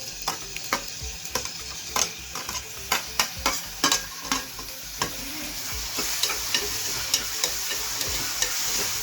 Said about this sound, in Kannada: ಒಗ್ಗರ್ನಿ ಒಳಗೆ ಈಗ ನಾನು ಕಟ್ ಮಾಡಿದ ಟಮಾಟಿಕಾಯಿನ ಹಾಕಾತೇನ್ರಿ